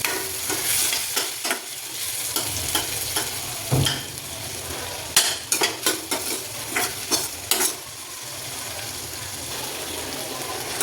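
Cucumber sabzi cooking in a pan over a low flame, a steady soft sizzle under a series of scraping stirs and clanks of a spoon and lid.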